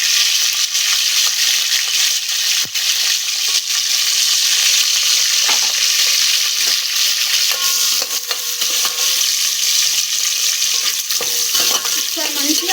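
Green chillies and whole spices frying in hot oil and ghee, a loud steady sizzle running throughout with occasional stirring scrapes close by.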